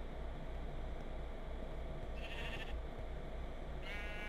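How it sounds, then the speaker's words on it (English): Sheep in a survival video game bleat twice, short and faint, over a steady hiss of ambient noise, with no talk. "eat sheep in front of the sheep."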